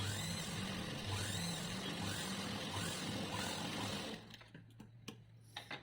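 A sewing machine stitches a blouse in a steady, dense whir for about four seconds, then stops, leaving a few faint clicks and handling taps.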